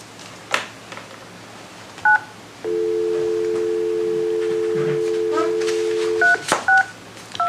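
A telephone dials out during a planning and zoning meeting. Short paired touch-tone beeps sound first, then a steady tone holds for several seconds, and a few more quick dialing beeps follow at the end.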